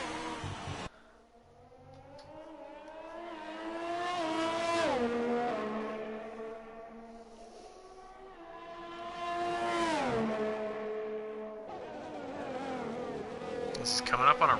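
Formula 1 race car engines howl in a racing video game on the Baku street circuit, rising and falling in pitch through two long acceleration sweeps with gear changes, loud and close, with faint commentary underneath.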